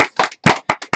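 A few close, sharp hand claps come one after another in a loose, uneven rhythm, loud and dry, with nothing else around them.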